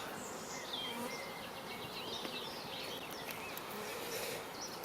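Honeybees buzzing steadily around an open hive during an inspection, a dense, continuous hum with individual bees passing close, faint bird calls in the distance, and no talk.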